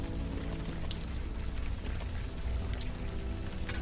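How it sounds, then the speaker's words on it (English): Steady rain in the point-and-click game Unavowed, a dense, even hiss of downpour with scattered droplet taps, continuous and fairly close throughout, with no talking over it. "It's horrible raining out here."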